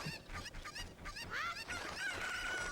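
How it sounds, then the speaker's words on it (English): Chickens in The Legend of Zelda: Ocarina of Time cluck and squawk in a busy overlapping flurry, with one bird letting out a long, quiet, drawn-out call near the end. "So I think there's 7 chickens in all."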